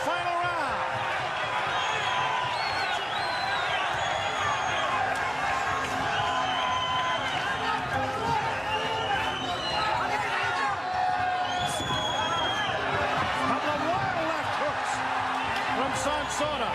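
A boxing arena crowd roars and cheers steadily through the final minutes of a 12th and final round, a dense continuous wash of voices with a commentator talking over it.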